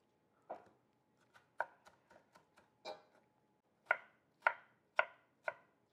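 A knife chops firm tomatoes for gazpacho on a cutting board, giving a series of crisp, close thuds, a few quick light taps, then four louder evenly spaced cuts in a quiet room.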